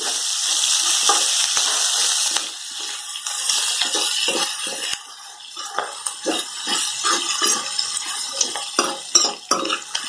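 Ghevda bean pods for a Maharashtrian bhaji roasting in a pan, a steady frying hiss with repeated scraping, stirring strokes against the pan, close and fairly loud with no talking.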